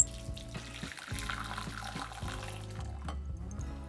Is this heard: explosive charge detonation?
no